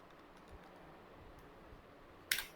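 Keys tapped on a computer keyboard while entering a village name into an online caste certificate form, a few soft quiet clicks followed by one sharper, louder key strike near the end.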